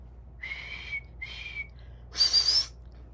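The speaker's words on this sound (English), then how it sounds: "The lifeguard heard her and blew his whistle." A whistle blows in three short shrill blasts, the first two steady, the last higher and warbling, clear against a quiet background.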